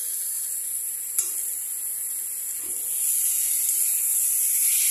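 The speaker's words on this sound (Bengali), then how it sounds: "এখন আমি এই ঘি দিয়ে দিচ্ছি 1 চামচের মতো, সামান্য পরিমাণে একটু ঘি দিয়ে নামিয়ে ফেলবো।" A spoonful of ghee hitting cooking cabbage in a pan, a steady close hiss of sizzling that swells louder toward the end, with a faint clink early on.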